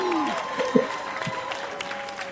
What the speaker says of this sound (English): loads of people were clapping